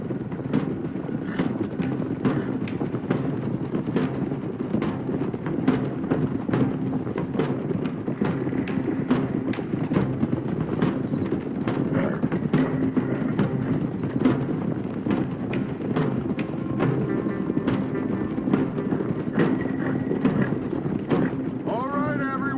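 Several horses clip-clop at a steady gallop in a Red Dead Redemption 2 scene, rapid hoofbeats continuing throughout with wind and occasional bird calls, while characters talk over them.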